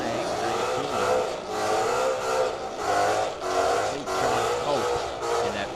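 A fox-body Mustang accelerating down the drag strip at Firebird Motorsports Park, its engine roaring in repeated surging pulls that rise and fall, loud and fairly close.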